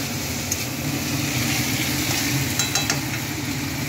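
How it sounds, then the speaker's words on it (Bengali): Meat frying in oil for a non-vegetarian dish, a steady dense sizzle filling the whole clip with a few brief crackles and spatters close by, no voices. "ভাজতে ভাজতে দেখুন তেলগুলো বেরিয়ে আসছে"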